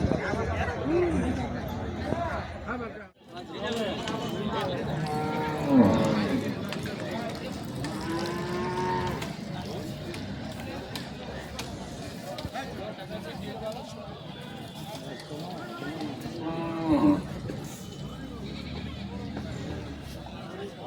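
Cattle, many of them crossbred, low repeatedly at a busy weekly cattle market in Saruliya, several drawn-out moos rising over constant crowd chatter and people talking nearby.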